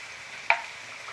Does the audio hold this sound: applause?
no